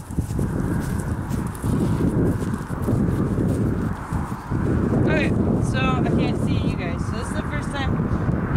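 A horse walking across a homemade wooden bridge, its hooves giving a run of close, rhythmic clip-clop thuds under wind noise on the microphone, with a voice talking partway through.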